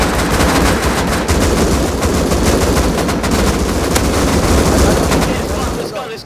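Dense, continuous automatic gunfire from the survival game Rust during a raid on an armored cave base, loud and nearly unbroken for several seconds as many players shoot at once.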